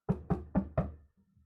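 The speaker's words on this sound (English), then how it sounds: "he is suddenly interrupted by a knock on the door." Four quick, evenly spaced knocks land on a door, sharp and close, followed by a brief faint rustle and then quiet.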